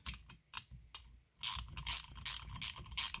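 A ratchet clicks in short rapid bursts while small bolts are run into an aluminum McCulloch SP81 82cc chainsaw engine, with a few soft strokes followed by louder, repeated ratcheting close by.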